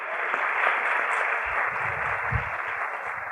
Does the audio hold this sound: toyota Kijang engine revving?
no